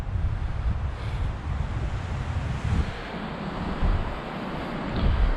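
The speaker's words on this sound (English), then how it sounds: "it's going to be a windy night as well. See where the tent's caving in there because of the wind." Strong wind gusts buffet a Berghaus Peak 3.1 Pro tent pitched in the woods, a continuous low rushing roar that swells and eases in surges.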